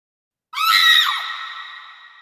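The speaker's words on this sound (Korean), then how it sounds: "짤막한 비명과 함께" A short, sharp scream bursts out loud and close, then trails off into a fading, ringing tail, standing alone as a dramatic sound effect in a historical Korean audiobook.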